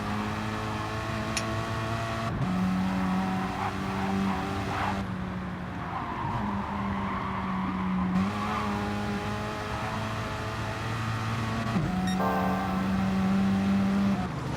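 GT cars race on the Sainte Croix circuit in a sim racing game, a steady engine drone with shifting tones as gears change, plus tyre squeal, loud and continuous throughout with no speech.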